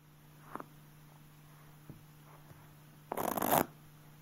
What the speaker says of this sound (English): The open shuffle is a very open, kind of sloppy shuffle